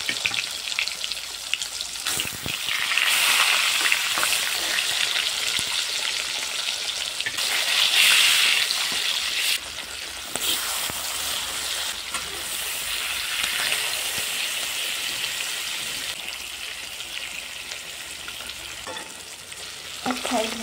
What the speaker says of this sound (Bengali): এবার আমি 1 পিস করে মাছ এর মধ্যে ছেড়ে দেবো আর ভেজে নেব